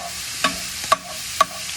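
Onions and crushed garlic fry in a pan with a steady sizzle under three sharp clicks of utensil stirring, close and fairly loud, with no talking.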